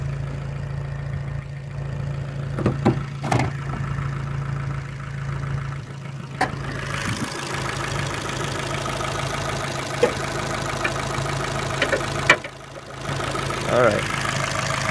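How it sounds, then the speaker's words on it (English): A Fiat 500 Abarth engine idles after warm-up with a steady low hum running throughout, while someone talks over it and occasional clicks and handling noises break in near the car. "The car just finished warming up."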